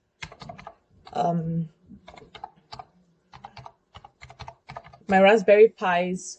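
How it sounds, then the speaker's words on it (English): Someone types on a computer keyboard, entering a Raspberry Pi host name in an SSH application, with clustered, close clicky keystrokes in short bursts. "I'm just going to type in my Raspberry Pi's"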